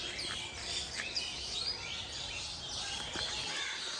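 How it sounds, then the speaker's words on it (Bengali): Birds chirp and twitter outdoors, with a dense stream of small high calls at moderate distance over a steady background hush. "পাখির শব্দ।"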